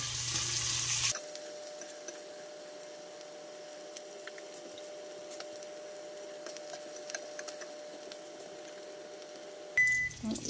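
Food for a quiche cooks down in a pan with a soft, steady sizzle and scattered faint crackles, quiet and continuous, with no one talking.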